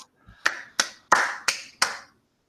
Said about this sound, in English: you clapped in real life